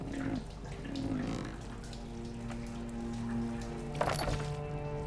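Water splashes and drips as a bucket is hauled up from a well in Amnesia: The Dark Descent, a wet sloshing texture over a low droning ambience with a brief clunk near the end.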